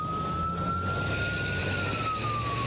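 An ambulance siren wails steadily with a slow rising and falling tone over a constant low engine and road rumble, loud and continuous throughout, with no voices.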